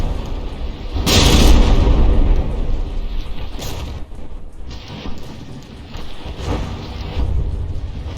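A battleship in the naval combat game From the Depths takes APS gunfire, giving a sustained roar of booming impacts and explosions that swells and fades with repeated hits.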